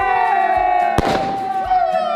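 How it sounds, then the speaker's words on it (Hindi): A sky shot firework launches with a sharp close crack followed by a hissing whoosh, set against a loud steady whistling or siren-like tone and background voices. "100 रुपए वाला स्काई शॉट।"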